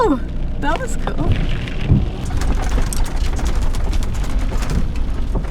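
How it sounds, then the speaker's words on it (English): Heavy rain pours steadily on a highway in the Canadian Arctic, a dense, constant hiss heard close with low rumbling beneath, while people talk and exclaim over it. "It's pissing rain now."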